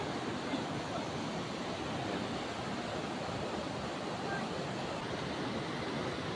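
The river right beside Bogyah hot spring in Hungduan, Ifugao, Philippines rushes in a constant, full, close-up roar of flowing water with no pauses.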